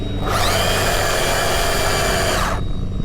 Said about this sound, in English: just to make sure it'll still do a burnout